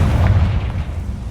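A Confringo blasting spell going off in the Hogwarts Legacy video game, one loud, deep, booming burst that fills the short moment with a heavy low rumble.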